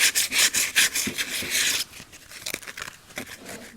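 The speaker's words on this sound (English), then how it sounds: "I think we'll do some hand sanding" Brisk back-and-forth scraping of sandpaper on wood, fast rhythmic strokes that ease into softer, sparser rubbing partway through; close and alone.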